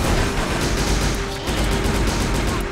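Gunfire from a long-range gun in Silent Hill: The Arcade, a steady dense burst of shots filling the whole moment at close, loud level, with game noise churning underneath.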